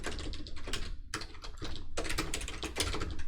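Rapid typing on a computer keyboard, a quiet flurry of close clicking keystrokes in short bursts with brief pauses between them.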